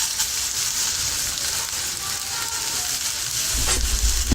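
Two plantains, about 110 grams, frying in a pan with about half a teaspoon of olive oil, giving a steady, even sizzle that crackles for several seconds and thickens slightly near the end, with no talking.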